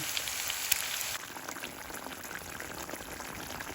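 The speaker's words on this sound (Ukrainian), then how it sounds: "Тепер ми вливаємо водичку з лимоном." Lemon water is poured into a hot frying pan of browned pork neck pieces for pan-cooked shashlik, giving a steady, close hissing sizzle that barely changes throughout.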